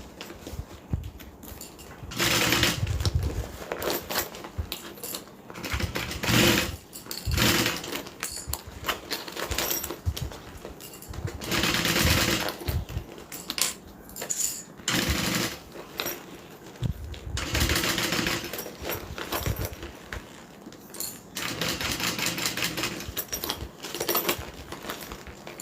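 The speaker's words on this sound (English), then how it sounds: "I'm just going to stitch and turn." A sewing machine stitches fabric in repeated bursts of rapid mechanical whirring, starting and stopping with short pauses between runs, fairly close and loud.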